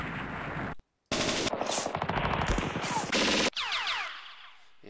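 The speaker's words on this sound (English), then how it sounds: "Okay, let's use machine guns." Rapid machine gun bursts fire in the West Front war video game, with a brief silent gap and then sweeping whistling effects near the end, loud and close.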